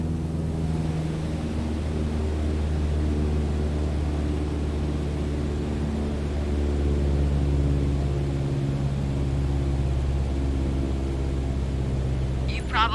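A simulated propeller airplane engine in Microsoft Flight Simulator 2020 hums steadily after being throttled back to cruise RPM, a constant droning tone that holds for the whole stretch with no break.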